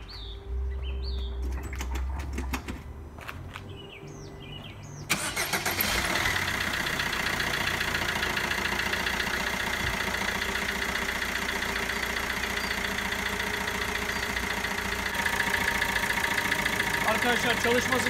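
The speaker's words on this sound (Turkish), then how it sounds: "Şimdi aracımın marşına basıyorum." A Fiat 1.3 Multijet diesel car engine cranks and catches after about five seconds of quiet ambience, then settles into a steady, close idle that runs evenly to the end.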